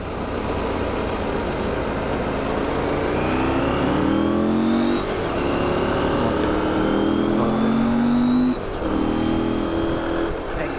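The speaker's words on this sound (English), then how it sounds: "the car's just overtaking him now" On a high mountain road a car overtakes, its engine rising and falling as it passes close by. Steady wind and engine roar from the rider's motorbike run under it throughout, loud and continuous.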